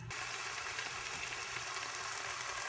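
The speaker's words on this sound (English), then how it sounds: "So the tomato has been sauteing with the ginger, onion, and garlic for about 3 minutes." Tomato, ginger, onion and garlic sauté over medium heat for a shrimp and bottle gourd dish, giving a soft, even, faint sizzle that stays constant and has no voices over it.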